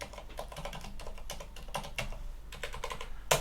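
Quiet, close keystrokes tap on a computer keyboard as a password is entered, an uneven run of clicks with brief pauses.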